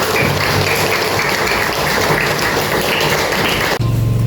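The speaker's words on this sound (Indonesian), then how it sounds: "Tepuk tangan untuk kita semua." Group applause at a school event at SD Negeri Sukarame, a continuous dense wash of clapping that cuts off abruptly near the end.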